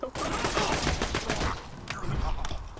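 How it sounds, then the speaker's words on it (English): Rapid bursts of pistol fire from a Blood Out pistol in Borderlands 2, a dense crackling volley close up over game effects, with a voice talking faintly beneath. "there's our Blood Out pistol in action"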